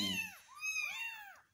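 A tiny kitten gives several high, rising-and-falling meows in quick succession while being bottle-fed and rubbed to stimulate it, close and clear against a quiet room.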